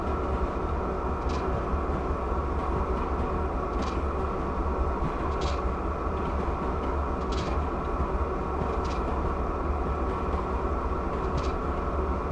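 A Norfolk Southern freight train in Train Simulator, descending a downhill grade with dynamic brakes engaged at around 25 mph, drones as a steady rumbling hum with faint periodic clicks, continuous and even throughout.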